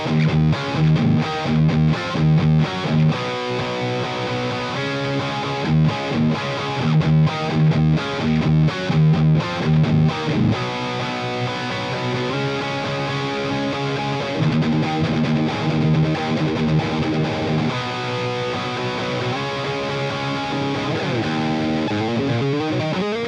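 A Valeton GP-200 multi-effects unit's Bog Red M amp model, based on the Bogner XTC red channel, drives a loud, heavily distorted electric guitar riff with chugging palm-muted chords and sustained ringing notes.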